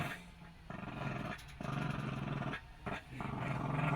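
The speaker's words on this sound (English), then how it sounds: "Dogs are accepted, Here's all the dogs." Several dogs growl in low, rough bursts, with short pauses between the snarls, fairly close and steady over four seconds.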